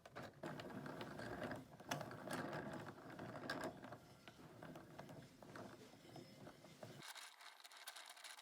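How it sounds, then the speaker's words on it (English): A handheld yarn winder cranks yarn into a ball, giving a steady mechanical whirring and ratcheting clatter close by that runs for about seven seconds and then drops to a thinner hiss. "I'm just going to use my yarn winder to make this into a ball"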